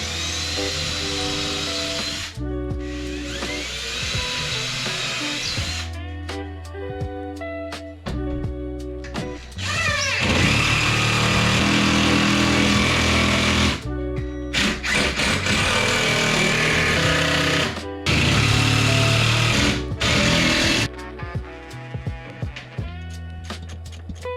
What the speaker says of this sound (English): mark the holes, drill them out, and shoot the lag screws in